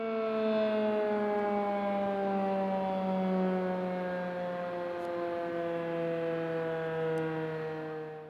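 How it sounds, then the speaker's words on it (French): A village civil defense siren in Champfromier wails in a long, steady tone, heard from a distance and fading slightly near the end, with no voices present. "c'est la sirène du village qui est en train de sonner."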